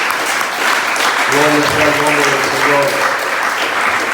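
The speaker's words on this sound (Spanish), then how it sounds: "Denle un aplauso al Señor." Church congregation applauding during a Spanish-language service, a steady wash of clapping that runs the whole time beneath a voice calling out.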